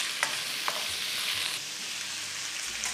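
Snakehead fish slices and blanched celery stir-fried in a hot wok, a steady close sizzle with a few sharp scraping stirs throughout, no voices.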